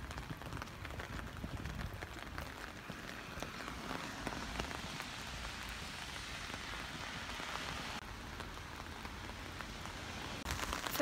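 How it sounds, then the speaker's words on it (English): Steady rain falls and patters on a surface, a constant dense hiss with no pauses and no voices, moderately loud throughout. "the sound of the rain is so great"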